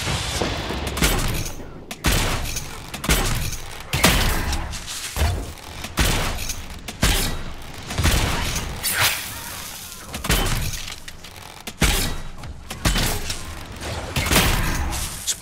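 Repeated explosions rip through a Dragon Age: Inquisition battle, a rapid string of loud, close blasts roughly every second, each a broad crashing burst with debris and whooshes between, with no voices.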